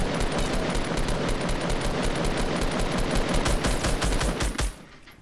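Rapid automatic gunfire in Fortnite, a dense unbroken burst of shots lasting several seconds before cutting off abruptly, loud and close.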